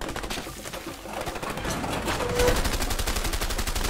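Shotgun fire in A Way Out rattles out as a dense, continuous barrage of gunshots at moderate loudness, with overlapping blasts and no pauses.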